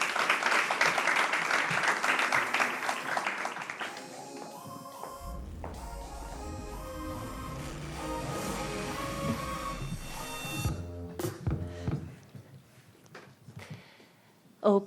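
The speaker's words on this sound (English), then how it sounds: "please, a big round of applause for both" Audience applause for two award recipients called on stage at the Swiss Who's Who NextGen Awards 2023, dense clapping at first that gives way to music with a sustained tone, then fades to quieter sounds before a final sharp hit.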